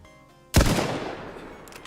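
A single loud gunshot from the video game DayZ fires abruptly and rings out in a long decaying tail, followed by faint scuffling.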